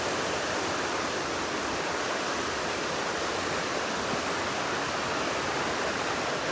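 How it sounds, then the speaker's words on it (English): A mountain creek on the Kephart Prong Trail in the Great Smoky Mountains rushes steadily, a dense, even broadband wash of flowing water that stays constant and fairly loud throughout, with no voices over it. "And there's the creek."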